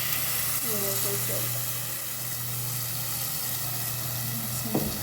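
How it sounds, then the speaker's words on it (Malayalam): Eggs fry in a pan while making egg curry, giving off a steady, fairly loud sizzling hiss that runs the whole time, with a few faint clinks and a soft thud near the end. "മുട്ട ഏകദേശം ഒന്ന് ഫ്രൈ ആയി വന്നാൽ"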